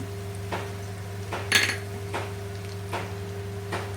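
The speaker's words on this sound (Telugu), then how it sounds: "ధనియాల పొడి అన్నీ వేసి అంతా ముక్కలకి బాగా పట్టేటట్టు ఇలా కలుపుకోవాలి" A spoon scrapes and clinks against a pan as chicken pieces are stirred with coconut chili powder and coriander powder for an Andhra chicken fry, with a few sharp metallic knocks spaced out over a steady low kitchen hum and no talking.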